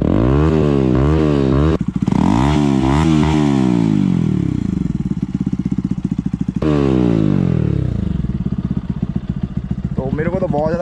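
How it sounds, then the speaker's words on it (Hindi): A Bajaj Pulsar NS 160 motorcycle fitted with an Akrapovic full-system exhaust revs hard and loud, its pitch climbing and falling through repeated throttle blips, with a brief pause before revving again. "इसकी साउंड की आवाज़ साइलेंसर की आवाज़ बहुत तेज है"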